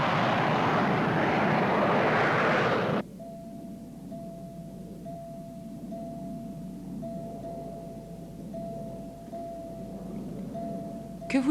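A loud broadband roar of an airplane engine cuts off abruptly after three seconds, leaving a quieter cabin hum with a steady tone running underneath.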